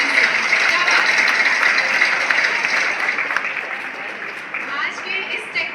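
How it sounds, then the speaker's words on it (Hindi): A crowd applauds loudly at a company's seventh anniversary celebration event, sustained clapping that gradually eases toward the end. "कम ऑन एवरीबॉडी, जोरदार तालियां।"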